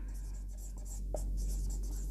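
Pen or chalk writing on a surface during a class, with soft scratchy strokes over a steady low hum and no talking.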